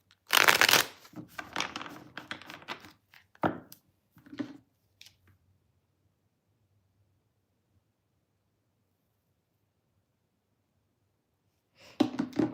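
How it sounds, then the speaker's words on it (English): Tarot cards being shuffled by hand, a burst of dense riffling and slapping at the start with a few short shuffles after, then a long quiet gap before another loud shuffle at the end. "Let me shuffle a little bit more."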